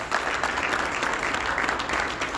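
Audience applause fills a hall during a 2021 State of the City address in Atlantic City, a steady dense wash of clapping that holds loud and even throughout with no gaps.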